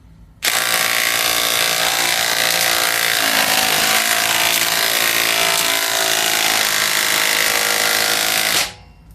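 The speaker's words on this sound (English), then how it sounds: "the DeWalt XR DCF886 was able to completely sink" A DeWalt XR DCF886 brushless impact driver sinks a long half-inch lag bolt into wood, hammering loudly and continuously for about eight seconds before stopping abruptly.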